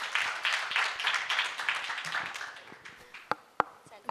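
An audience at a Marathi literature festival applauds for the poet Vasant Bapat with a burst of loud, dense clapping that thins to a few scattered claps.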